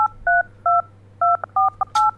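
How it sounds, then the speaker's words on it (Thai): A telephone keypad in a horror video game set in an apartment beeps out seven quick, clear dialing tones in an uneven rhythm. "โทรศัพท์ก่อน"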